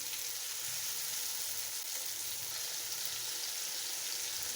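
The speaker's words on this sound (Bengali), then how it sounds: "দিয়ে দিচ্ছি কিছু চিংড়ি মাছ ভেজে নেব" Shrimp frying in a pan, a steady, dense sizzle that holds evenly throughout with no voices.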